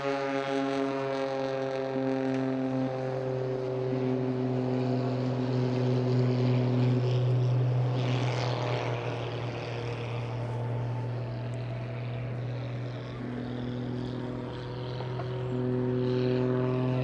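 Pitts S-2S aerobatic biplane flying a display along the coast near Beachy Head and a pier, a steady loud propeller-engine drone with strong harmonic tones that swells and shifts pitch as it passes, with no talk.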